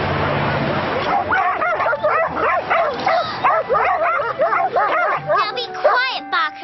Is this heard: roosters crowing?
no